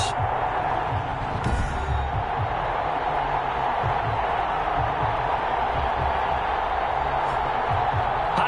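Steady roar of a stadium crowd cheering in an NFL football video game before the Buffalo Bills meet the Las Vegas Raiders, loud and continuous throughout.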